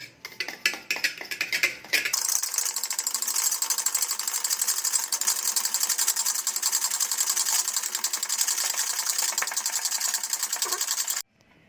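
Continuous, steady whirring clatter of hot tea decoction being beaten into egg for masala egg tea, following a few brief clinks at the start.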